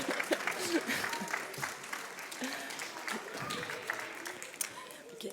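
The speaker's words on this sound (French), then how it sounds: "Je crois qu'on peut l'applaudir et m'applaudir aussi." Audience applause following a demonstration by Honda's ASIMO humanoid robot at a robotics event, a moderately loud wash of clapping with scattered claps across the clip and some voices murmuring underneath.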